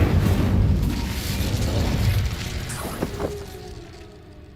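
An Incendio fire spell explosion in the video game Hogwarts Legacy gives a loud rumbling boom with a roaring burst that slowly fades, followed by a couple of sharp cracks near the end.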